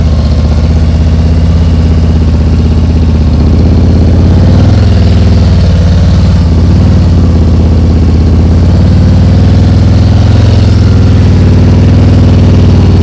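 A motorcycle engine runs steadily during slow-speed riding practice at night, a loud, close, continuous low hum with mild swells in throttle and no speech.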